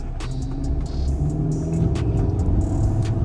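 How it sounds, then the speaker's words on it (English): A truck with a 6.2 engine pulls off fast, its engine roaring loud and close in a sustained, rising rush, with no voices heard. "Truck pull off fast"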